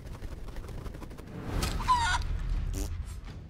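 Chicken clucking in the game Divinity: Original Sin 2, a few short squawky clucks and a rising bawk over faint background game sound, fairly quiet and close.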